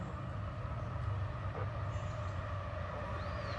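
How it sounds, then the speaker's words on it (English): A fast southbound double stack intermodal freight train passing near a railroad bridge in Walton, Kentucky, a steady loud rumble and roar of wheels on rail throughout, with a faint high squeal coming through at one point. "a really fast train going through Walton, Kentucky, going southbound. It's a double stack intermodal"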